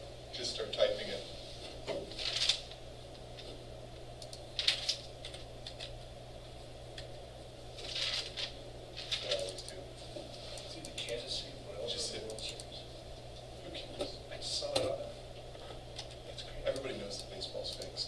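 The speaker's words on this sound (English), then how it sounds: "Just start typing it." Computer keyboard typing, quiet irregular clusters of key taps spread across the stretch under a steady electrical hum, with someone speaking over it.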